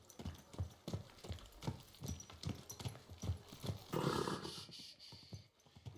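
A horse's hooves clip-clop in a video game, a steady close rhythm of hoof beats with a brief burst of rustling near the end.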